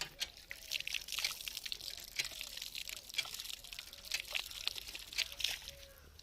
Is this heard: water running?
yes